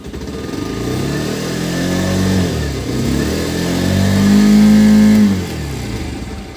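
A Bajaj Pulsar 125 BS6 motorcycle with its check engine light on starts and runs, the engine rumbling loud and close, rising in two swells of revving before settling back toward idle.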